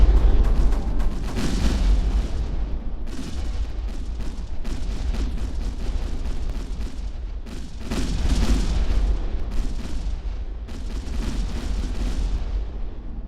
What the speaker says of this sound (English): So there you can see the secondary explosions prior to the complete explosion, destruction of the ship.